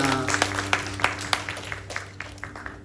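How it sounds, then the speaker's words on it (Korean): A congregation claps together at a church worship service: steady, rhythmic claps at a brisk even beat, close and fairly loud. "박수 영광 드리겠습니다"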